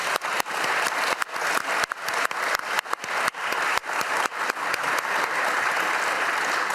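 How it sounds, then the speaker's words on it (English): A large convention crowd at Dragon Con gives the volunteers a loud, sustained round of applause. Dense, even clapping carries through the whole stretch, with sharp individual claps cracking through near the front. "give all our volunteers a big round of applause"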